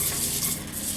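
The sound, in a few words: arborio rice toasting and stirred in butter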